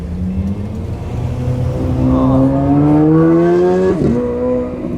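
A sports car at a Porsche cars-and-coffee meet accelerates away, its engine pitch rising through a couple of quick gear shifts, loud and fairly close, with background crowd noise.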